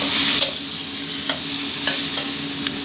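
Steady loud sizzling of seafood with chili and garlic frying in a hot wok for Thai basil stir-fry, with occasional metallic scrapes and clanks of stirring, close up.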